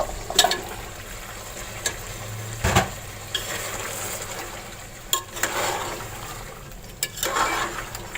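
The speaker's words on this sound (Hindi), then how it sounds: "इसको अच्छी तरह से मैं भून लूँगी।" Mutton and pumpkin frying in a pot for kaddu gosht, with a steady sizzle broken by several sharp scraping stirs of a spoon against the pot, fairly close and with no talking.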